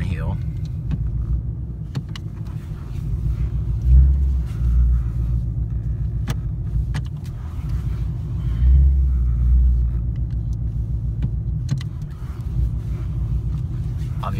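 A 2017 Ford Mustang 5.0 with an odd fault rumbles low and steady from inside the cabin while driving, the engine drone swelling twice, with faint rattles and no one talking over it.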